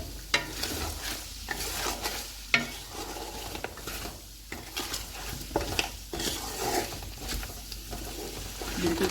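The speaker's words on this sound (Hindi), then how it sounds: "बिल्कुल कम आंच में हम इसको तकरीबन 1 मिनट तक इसी तरह से मिक्स करेंगे।" Spices with salt (turmeric, red chilli, dried coriander, fennel, cumin) stirred in a pan over low heat for a dhuwan dahi gosht, giving soft scraping strokes and a light sizzle throughout, with a few sharper clinks of utensil on pan.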